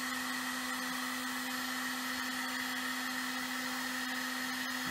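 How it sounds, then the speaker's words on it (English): A heat gun blows steadily and close by while a tiny Tesla coil top load is soldered, a continuous even airy roar with a constant hum running through all five seconds and no talk. "Am I getting too close to your hand with the heat gun?"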